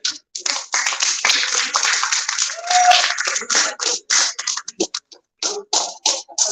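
An audience claps for a performer at an event, with brisk, close clapping that holds strong for several seconds and then thins into scattered separate claps.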